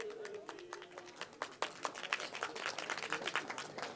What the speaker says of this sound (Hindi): तो जोरदार तालियों से आप स्वागत करेंगे